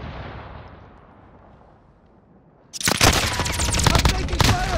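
Call of Duty: Modern Warfare gunfire breaks out abruptly after a quiet, rumbling lull, with dense, loud volleys of rapid shots and bursts layered over one another, near and sustained.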